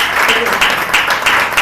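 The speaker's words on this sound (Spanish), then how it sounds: "Dale un aplauso al que viene." A church congregation applauds in a short, loud burst of clapping, dense and rhythmic, filling the whole moment.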